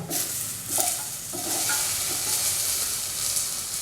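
Chopped tomato goes into a hot pan and sizzles with a broad, hissing fry while a utensil scrapes and stirs in a few distinct strokes. The sound is close and fairly loud.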